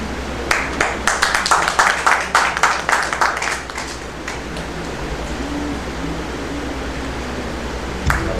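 Applause from an audience at an award ceremony, a burst of clapping that stays steady for several seconds, then fades to a low hum of room noise with a brief final clap.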